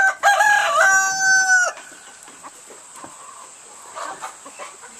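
A rooster crows loudly and close in a farm chicken coop during morning rounds, followed by softer scattered clucks and faint rustling from the flock.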